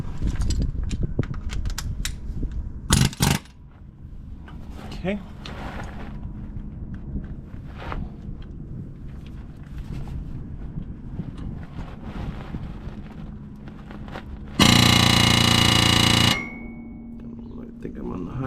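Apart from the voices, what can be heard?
air hammer working on a Ford Super Duty front end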